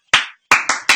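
Four sharp, close hand claps ring out in a quick rhythm, a single clap then three in fast succession, as a cheer at a Dodgers baseball game.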